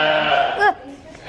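Baby lambs huddled under a warm heat lamp on a farm let out a short, close, wavering bleat, brief and fairly loud, followed by quieter background sound.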